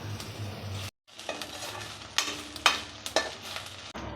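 Ginger-garlic paste and curry leaves hit hot oil in a pan for pepper chicken, sizzling close by. A brief drop in sound comes early, then the frying goes on with several sharp scraping stir strokes.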